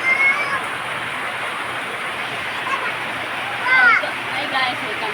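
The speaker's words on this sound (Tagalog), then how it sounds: "Perting kusuga sa ulan yun." Heavy rain pours steadily in a broad, constant wash of noise, loud and unbroken throughout, with a few faint higher squeaks and a brief swell near the middle.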